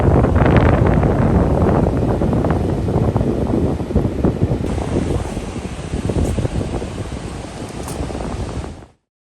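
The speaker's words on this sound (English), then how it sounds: "I'm ducking down right now because it's really windy out." Strong wind buffets the microphone on a beach at Padre Island, a loud, gusty roar with surf rumbling underneath, then cutting off abruptly.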